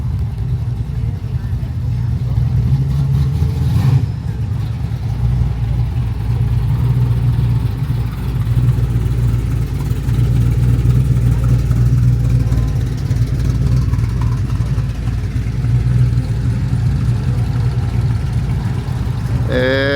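Car engines rumble and rev in a parking lot filling with cars, including a Porsche, in Seaside, Oregon: a loud, continuous low drone lasting the whole stretch, with people talking over it.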